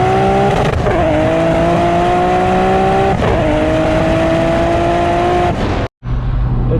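A Toyota Supra with a T56 Magnum gearbox accelerates hard under full throttle, the engine note climbing steadily, then dropping briefly at each quick short shift, loud and close, and ending with a sudden cutout.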